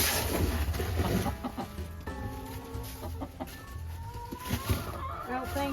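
Chickens cluck and murmur inside a cold farm coop in 11-degree weather, several birds calling in irregular bursts at close range over steady background noise, with a person speaking briefly between the calls.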